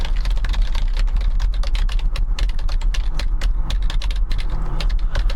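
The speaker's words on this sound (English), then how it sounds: "Do you like the keyboard?" Fast, continuous keystrokes on a computer keyboard during an ASMR programming session, crisp and close-miked, with dense clicking taps and no pauses.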